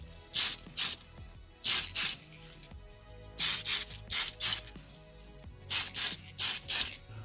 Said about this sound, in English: I'm going to seal that work in with Tamiya's TS13 clear gloss